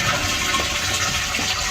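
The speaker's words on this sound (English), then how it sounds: "Right, so I'm going to flush it now." A faulty toilet that won't stop flushing lets water rush steadily into the bowl, a close, continuous hiss and gush with no pauses.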